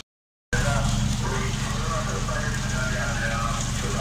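Rain falling on a Moscow street by St. Basil's Cathedral: after a brief silence, a steady, fairly loud wash of rain and street noise with faint voices underneath.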